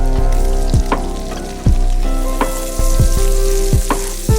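Minced garlic, diced onions and tomatoes sizzle loudly in a frying pan for garlic buttered shrimp, a steady close frying hiss broken by several sharp scraping stirs, with no voices.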